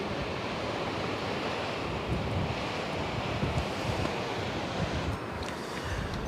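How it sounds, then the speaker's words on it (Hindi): Rushing mountain river with glacier below along the Baltal route of the Amarnath Yatra, a steady loud broadband roar of fast water running continuously with some wind noise over the microphone. "ये नदी का फ्लो ज़बरदस्त है"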